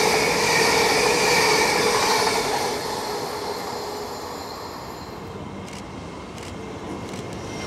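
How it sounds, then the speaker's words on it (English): An LNER train on the East Coast Main Line rumbles and clatters steadily on the rails nearby, loud at first then easing to a lower, continuous roar with faint squeals. "We'll get the LNER Pride train"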